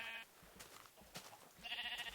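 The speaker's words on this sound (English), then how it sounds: "Here are some sheep." Sheep in the Minecraft video game bleat in short wavering calls, one at the start and another near the end, with faint clicks between, all fairly quiet and without talk.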